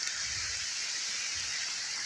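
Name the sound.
rain starting to fall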